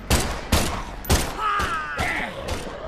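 Gunfire in the VR shooter Desperate: Vladivostok: three sharp, loud shots in quick succession, followed by mechanical clacks and a whirring, whistling ring as the weapon cycles.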